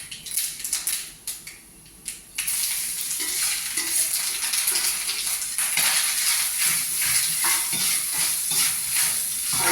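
Grated coconut and pumpkin sizzle and fry in a pan while being stirred, a loud, continuous hiss with scraping and clinking, and a quieter, choppier start before the full sizzle kicks in.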